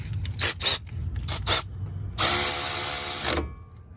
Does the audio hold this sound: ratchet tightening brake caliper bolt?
yes